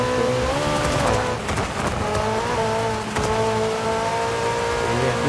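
A McLaren 765LT in Forza Horizon 5 roars with a loud, sustained engine and exhaust note, revs rising and dipping through gear changes and corners, close and continuous without speech.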